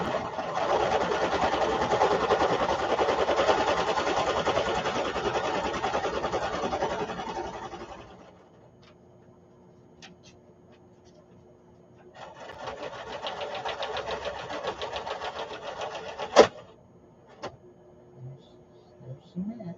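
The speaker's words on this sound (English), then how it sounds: "just try straight stitch. See what a straight stitch does for us" A sewing machine stitching a straight stitch while crafting a junk journal: a steady close whirring run for several seconds, a quiet pause, then a second run, with a sharp clack and faint rattles near the end.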